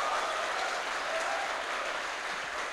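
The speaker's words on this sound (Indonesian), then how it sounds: "Tepuk tangan untuk kita semuanya." Sustained audience applause fills a civil servant inauguration ceremony in Indramayu, a dense, even wash of many hands clapping at steady loudness throughout.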